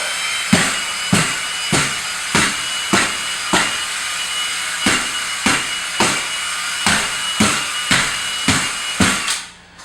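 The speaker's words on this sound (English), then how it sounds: "So you take your drill gun, you have your step bit on, and here you go." A drill fitted with a step bit bores into plaster on lath in a steady series of gritty bursts, about two per second, over a constant motor whine.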